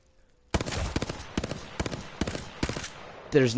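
Hemlok burst rifle firing in a video game: rapid bursts of gunfire in a steady rhythm, loud and close, ending with a brief electronic sound.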